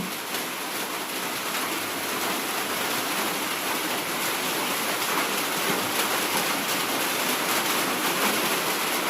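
Steady rain falling, a dense and even wash of drops that stays constant and fairly loud throughout, with no distinct voices.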